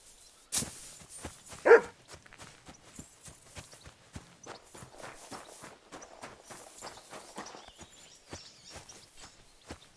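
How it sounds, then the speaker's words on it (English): A dog barks in the medieval video game Kingdom Come Deliverance 2, a couple of sharp barks early on, followed by a steady run of hoof-like footsteps clopping along. "Barking? He's coming from over there."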